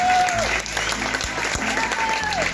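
An audience in a gymnastics hall applauds young competitors, steady dense clapping throughout, with a voice heard over it.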